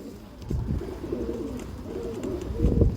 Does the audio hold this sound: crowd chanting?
no